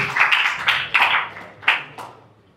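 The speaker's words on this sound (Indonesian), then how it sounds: "Boleh tepuk tangan sekali lagi teman-teman semua" A small audience at a school leadership training session claps in a few uneven bursts that fade between peaks, with the last claps trailing off.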